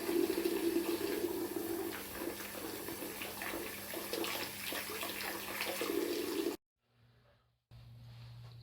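Water pours steadily from a dangling hose into a fermenter of fresh raspberry fruit beer wort, a loud continuous splashing rush that cuts off abruptly near the end, followed by a quieter trickle.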